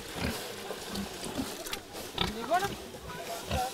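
Pigs being fed whey, called to eat by banging on a bucket: grunts and squeals from the pigs mix with someone speaking French over them, plus a few short knocks.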